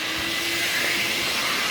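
A car wash vacuum cleaner with a shortened nozzle runs at a self-service car wash. It gives a loud, steady, close whooshing roar with no change over the short stretch and no voices.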